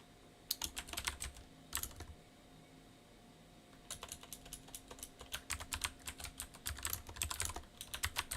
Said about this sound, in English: I'm trying to write a title for my stream here.